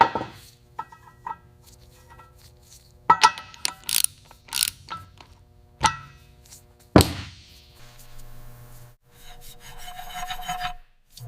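Ratchets and hand tools set the valve lash on a 1971 Chevrolet Chevelle SS engine fitted with blue anodized roller rockers and pushrods. Close, crisp clicks, rasps and metallic rubs come in irregular bursts with brief pauses between them.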